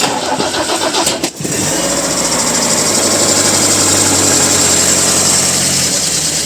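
A Polonez Kombi car engine cranks briefly, then catches and settles into a steady, loud idle running close by for several seconds, with no talking.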